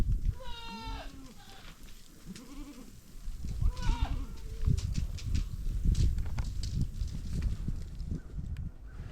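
Goats on a farm bleating close by, several wavering calls in the first few seconds, then a busy rustling and shuffling of hooves and movement as the animals mill about.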